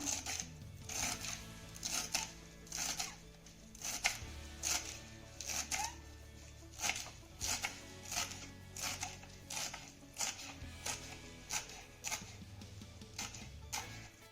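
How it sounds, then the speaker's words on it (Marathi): A knife finely chopping a handful of fresh coriander on a board, a steady run of quick, soft, close taps continuing throughout, with a faint low hum beneath and no talk. "मुठभर कोथंबीर देखील आपल्याला बारीक चिरून घ्यायची आहे छान अशी बारीक चिरून घेऊया"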